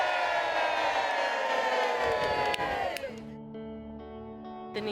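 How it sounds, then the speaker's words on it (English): Rally crowd cheering and whooping in a loud, dense roar during a protest against land claims, swelling for a few seconds before fading out into quieter background sound. "give yourselves a big cheer"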